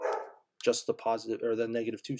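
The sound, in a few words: dog barking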